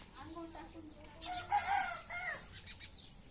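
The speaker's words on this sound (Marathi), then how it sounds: "कोंबड्याचा आवाज आला का" A rooster crows nearby, one drawn-out call, with clucking fowl and quiet background sounds around it.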